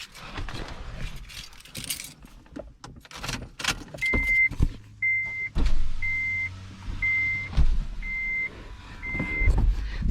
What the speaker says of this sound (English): let me roll down a freaking window